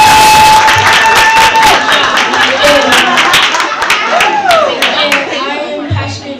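A studio audience at a youth talk show claps loudly and steadily, with scattered cheers and voices mixed into the close, dense applause that fades slightly before a short final burst.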